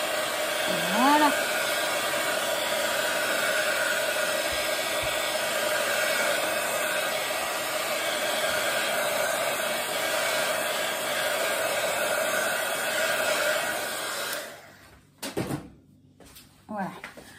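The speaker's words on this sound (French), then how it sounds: "Je vais finir par me racheter un heat gun silencieux" A heat gun blows hot air in a steady, loud hiss that runs for about fourteen seconds before shutting off, followed by some handling clatter and someone talking.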